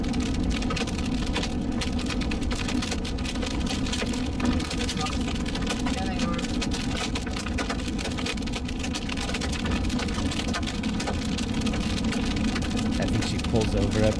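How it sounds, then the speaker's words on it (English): Hail pelts a car during a Colorado tornado watch storm, a dense continuous rattle of hard hits on the body over a low engine rumble. "You can hear the hail start to hit her car."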